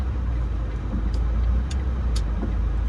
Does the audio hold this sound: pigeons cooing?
no